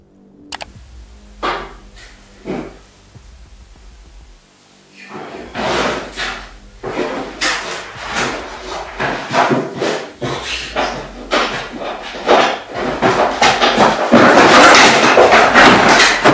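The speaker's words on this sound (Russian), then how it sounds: "Вы слышали, кто-то ломится?" A front door held shut by a hook is forced and pounded from outside: repeated heavy bangs and rattling thuds that build into rapid, loud hammering, with a person talking now and then.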